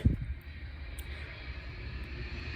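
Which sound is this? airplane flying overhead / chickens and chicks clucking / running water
airplane flying overhead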